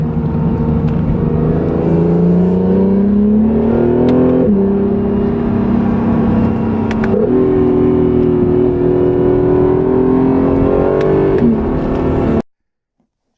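A 2017 Acura NSX supercar pulls hard, its engine note climbing and dropping through several gear changes, loud and close, steady droning revs between shifts until it cuts off abruptly near the end.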